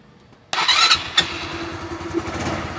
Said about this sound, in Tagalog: Kapag naka-start yung motor.